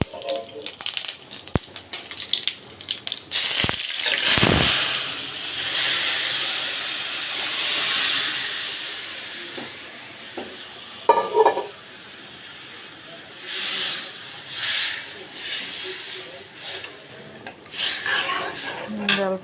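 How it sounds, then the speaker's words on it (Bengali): Bay leaf and whole cumin tempering in hot oil for dal gives a hissing sizzle that swells and fades, broken by sharp clacks and scraping, with voices talking at times. "এখন দিয়ে দিলাম তেজপাতা, জিরে ফোড়ন, গোটা জিরে"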